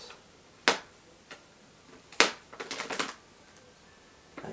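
Scissors or a blade cut into a mattress topper, giving a few sharp snips, then a quick cluster of crisp cutting clicks, close and fairly quiet in a still room.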